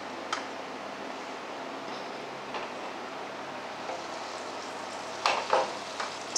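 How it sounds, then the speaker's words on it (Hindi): Gupchup (pani puri shells) sauté lightly in a pan, giving a soft, continuous frying hiss broken by a few brief scrapes and clatters of stirring near the end, with no talk. "हल्का ही सॉटे करेंगे हम, ताकि जो हल्का फुल्का कच्चा टेस्ट जो होता है वो चला जाए हमारे गुपचुप में"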